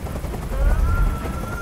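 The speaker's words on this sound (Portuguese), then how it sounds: "Não aguento mais este barulho! Diz ao helicóptero para sair daqui!" Helicopter from the video game Detroit: Become Human, a loud low rotor thumping and engine whine that holds steady through the brief moment with no talk.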